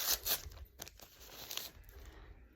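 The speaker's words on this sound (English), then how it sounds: "So we're going to open up a pack of the gauze." A pack of gauze is torn open in a few quick crinkly rips. The packaging rustles close and fairly faint, and no voices are heard.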